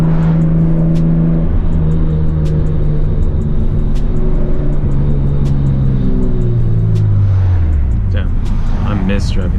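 A Lexus SC300 accelerates, its engine rising in a deep, steady drone from inside the car, then easing off toward the end, with loud road rumble underneath throughout.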